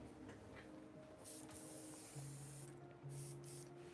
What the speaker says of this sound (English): Rinse out the airbrush real quick.